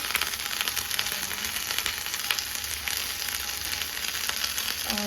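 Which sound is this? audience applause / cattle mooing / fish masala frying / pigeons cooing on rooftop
fish masala frying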